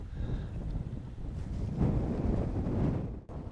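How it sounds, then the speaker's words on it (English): A warm breeze on a sunny day at a sheep farm buffets the microphone outdoors, producing a continuous low rumbling roar that swells and eases, with no speech. "It's a lovely day, sunny, breezy, and it's a warm breeze."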